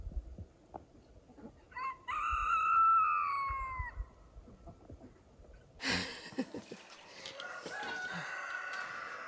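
A rooster on a homestead crows in a strained, hoarse, dove-like way, one drawn-out call in the first seconds, then a rougher burst of squawking and clucking that fades off, with no talk over it.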